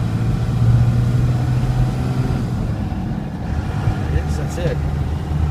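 A 2000 Dodge Ram diesel 4x4 pickup with a manual gearbox runs steadily with a low, continuous engine rumble close by, while someone speaks briefly over it.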